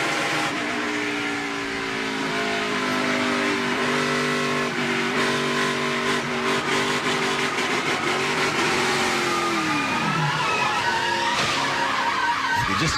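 An ARCA Racing Series stock car roars at full throttle, its engine note sweeping and dropping as it skids with tire squeal and brushes the outside SAFER barrier, then keeps running loud and steady.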